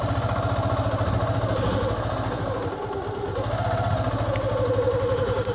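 A motorcycle engine idles steadily and close by, a continuous throbbing rumble with a slight dip midway, and no talking over it.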